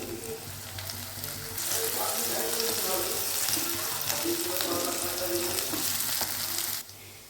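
Chopped potato going into a hot frying pan for a quick chicken keema ghugni, a loud sizzle that jumps up partway through and holds steady with light stirring before dropping off abruptly near the end.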